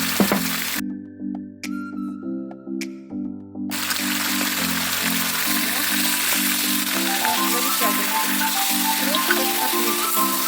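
Chopped onion hits a hot pan and sizzles loudly, a close, steady hiss that runs on without a break while background music plays.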